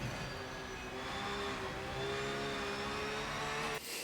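A Porsche Cup car in the Rennsport racing game punches out of fourth gear, its engine a loud, steady, rising howl that holds for several seconds before cutting off abruptly.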